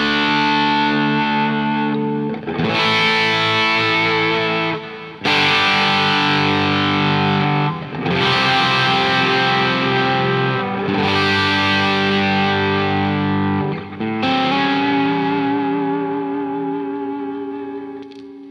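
Electric guitar through an Audio Kitchen Small Trees pedal into an amp plays a series of loud, overdriven strummed chords, each ringing for a couple of seconds before a brief gap, with a full, slightly roomy tone and no voices.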